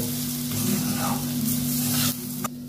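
Dry semolina halwa is stirred in a frying pan, giving a close, continuous scraping sizzle over a low steady hum. The sound drops away abruptly near the end.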